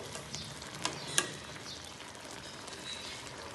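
Phaisa fish bhuna with coriander sizzles in a pan while being stirred, a quiet continuous frying hiss with a couple of light clinks from the utensil.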